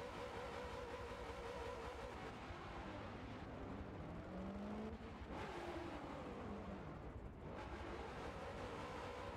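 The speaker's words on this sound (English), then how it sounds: "the cars are lined up for race one" Supercar-series race cars on the grid at Sandown raceway, a steady broad engine roar with faint shifting tonal whines rising and falling, loud and continuous with no talk.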